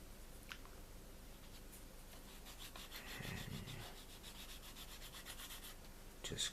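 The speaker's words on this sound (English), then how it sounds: "Then I take some fine sandpaper." Fine sandpaper lightly rubs over a model of a USAAF B-29A bomber, making faint, soft scratchy strokes that are close and quiet, with a slightly firmer pass midway and no talking.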